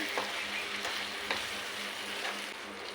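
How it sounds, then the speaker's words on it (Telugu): Mushroom curry with turmeric and salt frying in a pan, a continuous close sizzle broken by a few soft stirring scrapes spaced about half a second apart, with no voices. "వీటిని మంచిగా కలుపుకుందామండి"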